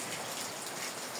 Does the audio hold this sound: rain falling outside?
yes